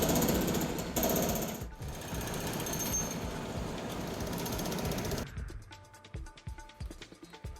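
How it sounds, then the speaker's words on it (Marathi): Building demolition with hammers and a JCB excavator: loud, rapid jackhammer-like pounding for about five seconds, then quieter scattered knocks and clatter. "पोलीस बंदोबस्तात पोकलेन जेसीबीच्या सहाय्यानं ही इमारत केडीएमसी कर्मचाऱ्यांनी हातोडा मारत कारवाई सुरू केली आहे"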